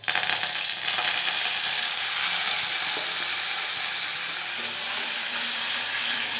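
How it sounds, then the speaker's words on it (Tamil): Onion, ginger garlic paste and curry leaves frying in hot oil for a cauliflower semi-gravy give a loud, steady, close sizzle that runs unbroken with no voices. "எண்ணெயிலே போட்டுடலாம் நல்லா பொரியுது பாருங்கள்"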